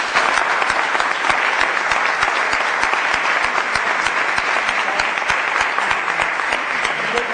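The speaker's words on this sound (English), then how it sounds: "please join me in applauding our special guest and also applauding yourself." Audience applause follows a call to honor a special guest, Peter Obi, at a Nigerian interview event: dense, steady clapping from a large crowd, loud and sustained throughout with no voices over it.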